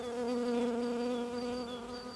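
Honeybees buzz in an opened Warré hive, a steady close hum with clear tonal layers that holds throughout, a few individual bees whining past on top.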